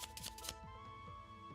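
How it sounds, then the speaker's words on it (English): A deck of trading cards being shuffled during an Idol Fight card game, a quick riffling burst at the start followed by faint card handling beneath a steady electronic hum. "Then deck shuffle."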